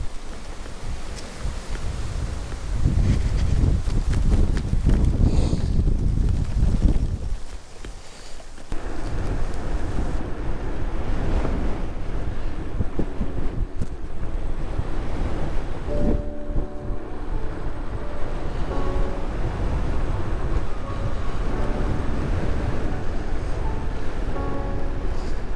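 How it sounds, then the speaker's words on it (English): Strong gusting wind buffets the microphone while riding a homemade e-bike on an extremely windy day, a loud continuous roar that is heaviest at first, then steadier with faint tonal whine underneath. "Bit of an extremely windy day to be testing it out."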